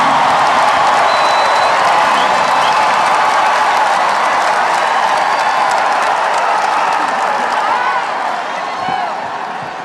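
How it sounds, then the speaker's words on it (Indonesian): Sustained crowd applause with scattered cheers fills a hall during a political speech at a declaration event in Indonesia, loud and dense throughout and slowly tapering toward the end. "kok tepuk tangannya paling keras nih"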